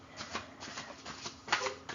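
Tarot cards being shuffled by hand, close and fairly quiet, a run of soft papery riffles and slaps with a brighter flick near the end, and no voices.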